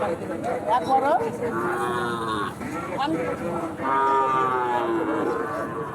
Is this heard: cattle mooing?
yes